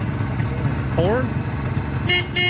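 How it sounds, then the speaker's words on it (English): A 1973 Suzuki GT550 motorcycle gives a single short horn toot, followed by a couple of quick clicks. "Horn"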